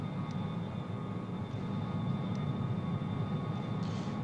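A low steady roar of an airplane on its landing approach with the gear down, engine drone filling the cabin continuously, no voices.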